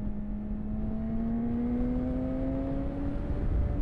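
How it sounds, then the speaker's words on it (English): A Suzuki GSX-R 600 motorcycle engine running steadily, a smooth droning hum that rises gently in pitch over a few seconds, close by and with no speech. "Can you hear my GSX-R 600?"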